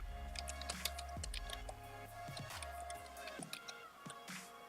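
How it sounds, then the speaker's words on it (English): Someone types an IP address on a computer keyboard, a quick run of light, close key clicks in uneven bursts over a low steady hum, no talking. "We're going to start by typing in our IP address into the host name."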